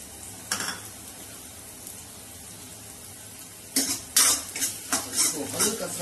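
Chopped onions hit a hot pan for village-style sarson ka saag, setting off a burst of crackling sizzle with stirring clatter and spatula scrapes over a quiet background.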